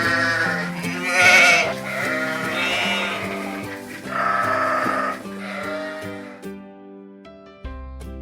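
Several loud, close sheep bleats follow one another in wavering cries, with a short quiet pause before a final low thump.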